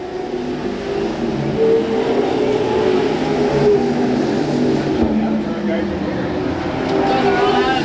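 IMCA modified race cars racing at Lakeport Speedway, engines droning and revving steadily throughout at a continuous loud level, with a commentator's voice running over the roar.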